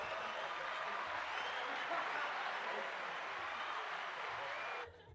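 A crowd's applause sound effect plays as a steady, dense wash of clapping at even loudness for about five seconds, then cuts off abruptly near the end.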